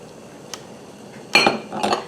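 Glass canning jars knocking and clinking against each other in warm water, a faint tap followed by two louder bursts of rattling glass, close by with no talk.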